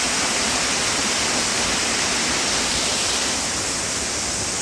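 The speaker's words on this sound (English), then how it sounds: "There's a bit more of the view of the waterfall there." The waterfall at Buried Village roars as a constant, dense rush of falling water, loud and close, with no other sounds.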